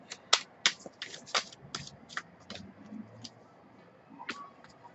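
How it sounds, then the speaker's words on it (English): A deck of tarot cards is shuffled by hand, giving a string of sharp, close riffling snaps and flicks in irregular bursts, with soft handling noises between them. "I can't even shuffle my deck properly because cards are just flying everywhere"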